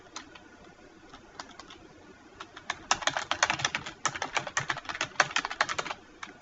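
Typing on a computer keyboard into a Word document, sparse taps at first, then a fast, steady stream of close keystrokes, with no voice.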